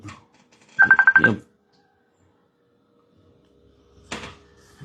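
A phone rings during a Rastriya Swatantra Party public programme in Rukum West: a short, loud burst of rapid electronic trilling, then near silence and a later dull knock.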